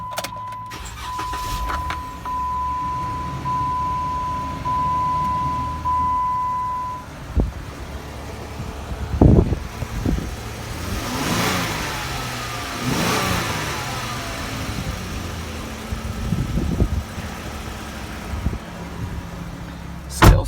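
High-mileage 2012 Jeep Wrangler Sahara with the 3.6 Pentastar V6 cranks briefly, catches, and settles into a steady idle with a couple of revs, heard close and fairly loud.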